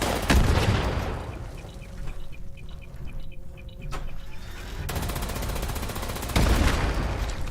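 Sustained rapid fire from a Gatling laser in Fallout 76, a dense buzzing stream of shots that runs almost continuously, swelling louder near the start and end with brief thinner gaps between bursts.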